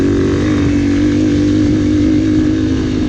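A dirt bike engine held at high revs with the throttle twisted open, a loud, continuous buzzing drone that stays steady and close throughout, with no voices.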